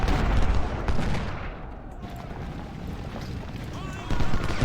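Civil War battle gunfire and artillery in Ultimate General: Civil War during the Siege of Suffolk, a crackling distant musketry fusillade with booming shots at the start and end, under someone talking.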